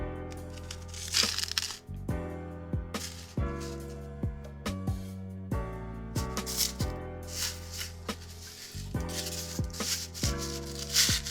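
Chicken pieces are pressed and turned in toasted panko breadcrumbs for katsu, giving close dry crunching, rustling and scraping in short uneven bursts with brief pauses between.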